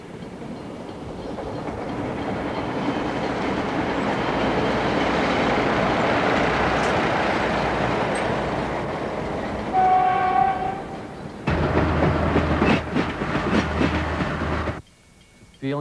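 A train rumbles past close by, building to a loud roar, then a horn sounds and the rhythmic clickety-clack of wheels on rail joints follows before cutting off abruptly.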